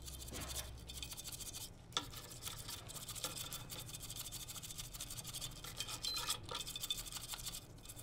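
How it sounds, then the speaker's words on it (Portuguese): Cleaning alcohol scrubbed over a freshly soldered phone charging connector gives a steady, close scratchy rubbing like a small brush, continuing unbroken with no speech. "Se eu pegar aqui agora o álcool, vamos fazer uma limpeza aí pra gente ver como é que vai ficar."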